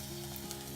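Food simmering gently in a pot over a very low flame, a soft, steady bubbling sizzle that stays faint and even throughout the short moment, with no voices.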